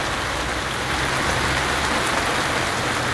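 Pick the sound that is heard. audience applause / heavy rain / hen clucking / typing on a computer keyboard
heavy rain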